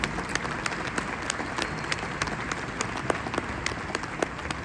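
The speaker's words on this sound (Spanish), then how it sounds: "Un aplauso a Microsoft." Sustained audience applause fills a keynote hall at the Dell Technologies Forum 2022, a dense, steady patter of many hands clapping at even loudness throughout, with no voices above it.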